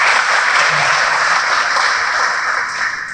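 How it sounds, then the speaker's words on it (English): Steady applause from an audience at an aviation safety week event in Curaçao, a dense, even wash of clapping that holds at a constant loud level throughout. "I will give her a round of applause."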